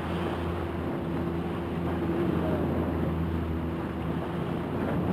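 A fishing boat running at sea off Yaquina Reef on a rebuilt engine, giving a steady, continuous low drone with wind and water noise throughout and no pauses.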